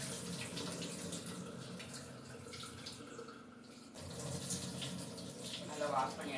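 Water swishes and runs continuously as flattened rice (aval) is washed in a bowl, a steady close splashing wash with a brief dip midway before it picks up again.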